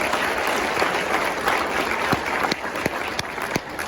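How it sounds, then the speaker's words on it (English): Audience applause at a symphonic winds winter concert: a short burst of steady crowd clapping, fairly loud and even, with a few sharper individual claps standing out. "Round of applause for these guys."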